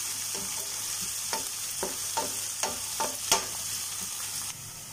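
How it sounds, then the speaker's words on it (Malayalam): Onions sauté in a hot pan with a steady sizzle underneath, broken by several short scraping stirs of a spoon in a loose rhythm, close and fairly loud. "സവാള ഒന്ന് നന്നായിട്ടൊന്ന് വഴറ്റിയെടുക്കണം."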